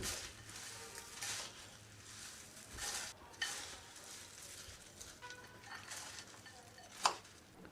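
Puffed rice, chanachur, roasted peanuts and noodles being tossed together for Nepali chatpate, soft dry rustling and crunchy shuffling in irregular bursts with a sharper clink near the end, fairly quiet and close.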